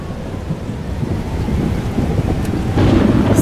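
Storm in the video game Life is Strange Double Exposure: dense rain and wind with a low thunder rumble swelling louder toward the end, continuous and without speech.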